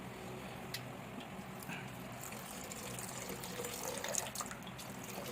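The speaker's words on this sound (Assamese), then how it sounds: "আৰু অকণমান এড কৰিম ইয়াত পানী" Water pours into a cooking pot for a fish and potato dish, a steady splashing, gurgling stream heard close up that continues through the whole stretch.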